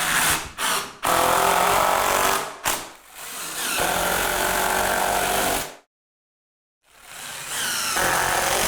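A power drill drives exterior-rated screws into a shower wall, heard loud and near in long whirring runs with short stops and a brief silent gap.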